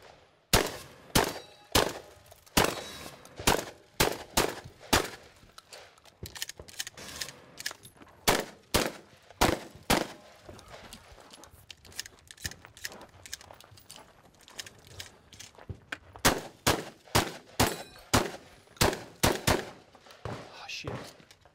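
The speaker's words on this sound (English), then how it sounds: "Next is Rob Romero with the shotgun." Shotgun blasts at plates in a speed shooting competition, a long run of sharp, loud, evenly paced shots in quick bursts, with a short lull in the middle before another rapid series.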